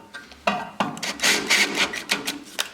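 A drill bit strains to bore a 5/16 inch hole for mounting a Warn winch, giving a scraping, grinding rasp in short uneven bursts, close and fairly loud with no talk.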